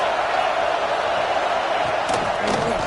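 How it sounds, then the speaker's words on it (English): Steady roar of a stadium crowd at a college football video game, a dense sustained wash of crowd noise with brief thuds and a voice rising near the end. "This crowd trying to make life miserable for this offense."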